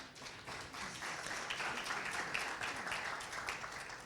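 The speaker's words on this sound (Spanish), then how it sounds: "Un fuerte aplauso a Pía." Faint, distant audience clapping for a panelist fills a brief stretch at an event on triple-impact economics, steady and soft throughout.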